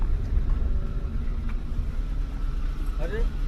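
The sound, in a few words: vehicles driving over a bridge overhead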